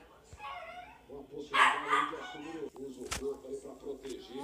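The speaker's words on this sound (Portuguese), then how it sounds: "Não liguei pro que o Chao tá latindo." A small dog barks and yips a few times close by, mixed with a person talking and a soft whimpering tone.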